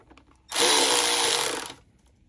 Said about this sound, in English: Now I'm going to go ahead and tighten my two clamps.